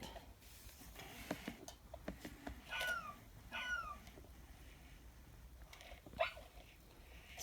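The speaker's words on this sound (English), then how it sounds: "I have not had an Aibo on the dog bark setting before, but it seems like the dog bark volume is a little bit quieter than the standard volume" A Sony Aibo ERS-1000 robot dog on its bark setting gives two short, faint electronic barks in the middle and a brief yip near the end, all quiet against a hushed indoor room.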